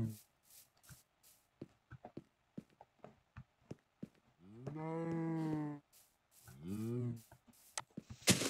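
Cows in Minecraft give two long, loud, near moos over scattered footsteps and taps, with someone speaking briefly between the sounds.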